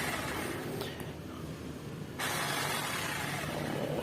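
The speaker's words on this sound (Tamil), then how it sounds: "இப்போது சுவிட்சை லேசாக ப்ரெஸ் பண்ணாலே மிஷின் நல்லா ஓடுது" An electric drilling machine, just serviced, runs with a smooth, steady motor whine and whir close by, its tone stepping up louder and brighter partway through as it spins freely without lag.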